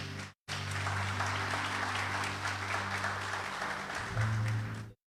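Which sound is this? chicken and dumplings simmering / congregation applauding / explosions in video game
congregation applauding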